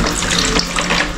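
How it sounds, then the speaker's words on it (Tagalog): Water gushing steadily from a shallow well pump, a loud, dense rushing splash with no break. "Ayan na yung tubig natin mga ka-jokes"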